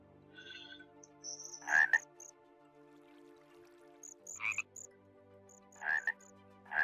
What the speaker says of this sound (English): Hear the frogs.